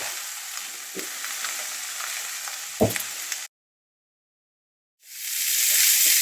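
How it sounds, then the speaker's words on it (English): Mixed vegetables with turmeric and salt sizzling in hot oil with a steady crackle and a couple of stirring knocks, then a brief silence before the frying hiss returns. "Now while the veggies are frying"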